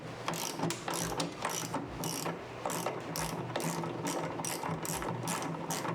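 A ratchet tightens a bolt on an exhaust mid-pipe bracket in a home garage, with rapid, steady clicking in repeated bursts separated by short pauses, close and fairly loud, with no talk.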